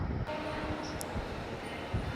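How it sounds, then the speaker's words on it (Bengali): Steady low rumble of a Kolkata metro train in motion, a continuous hum and rattle filling the carriage with no voices. "তো আমি মেট্রোতে উঠে পড়েছি"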